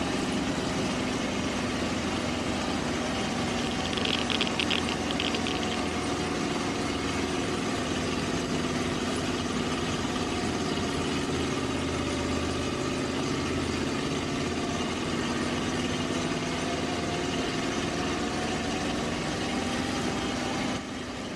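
A bus engine in the video game Bus World drives past a cooling pond and canal at a power station, giving a steady, continuous low drone with a faint higher whine, unbroken throughout with no talking.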